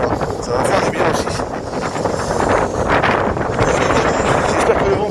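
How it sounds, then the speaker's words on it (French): Strong gusting wind buffets the microphone outdoors, a loud, steady roar filling the whole clip without letting up. "J'espère que le vent va se calmer un petit peu là"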